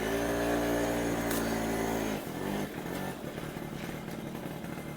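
A two-wheeler engine runs steadily at a driving test ground, a close, even motorcycle hum that shifts to a lower, rougher idle partway through.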